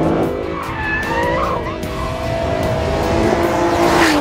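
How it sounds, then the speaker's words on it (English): A 2011 Aston Martin Virage slides under aggressive throttle, its tires squealing in long, wavering tones over a loud, close engine roar that builds toward the end. "if you're really aggressive with the throttle, you can make it slide"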